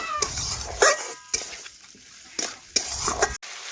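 Chicken being fried and stirred with spices in a pan over a clay stove, with scraping clatters of a utensil against the pot in short bursts, separated by quieter stretches of low sizzling.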